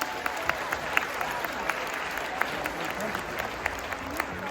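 Steady applause from a large audience at the Young Armenian Woman 2025 national pageant, with sharper individual claps popping out of the dense crowd clapping and a hint of voices underneath.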